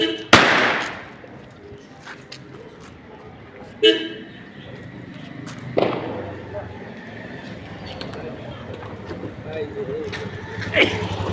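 Firecrackers burst during the Tihar festival in Nepal, with several sharp separate bangs spaced seconds apart over a steady outdoor background while people talk nearby.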